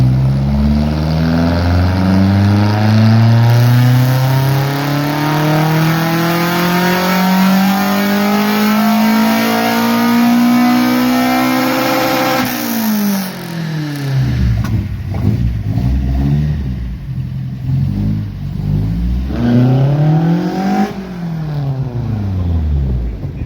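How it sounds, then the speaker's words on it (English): A tuned 20vt race car engine revs hard and rises in pitch under acceleration, then drops through gear changes and climbs again, loud and up close throughout. "I just asked Andrew, can we just go for a quick drive?"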